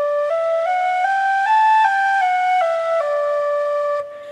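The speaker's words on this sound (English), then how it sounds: "What most people do when they're learning tin whistle is to slur all the notes." Tin whistle playing a slow run of slurred notes, each gliding into the next without tonguing, steady and clear at close range, stepping up and back down in pitch before a brief tail-off at the end.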